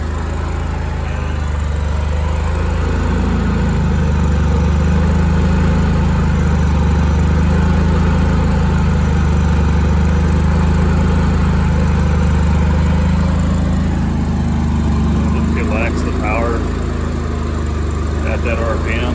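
A Honda EU7000is inverter generator running on natural gas through a tri-fuel carburetion kit, its engine humming loud and steady close by, the pitch shifting slightly as the RPM changes, with someone talking over it.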